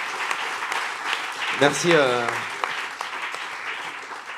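Studio audience at a televised comedy talent show final clapping steadily, a dense wash of applause throughout with a brief spoken word from the stage partway through.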